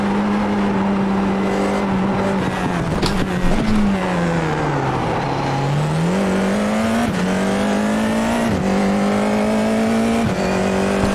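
Formula 4 iR-04 race car in the iRacing sim at Long Beach, its engine a steady loud drone that dips under braking, then climbs again on the throttle, with short gear-change breaks, no talking.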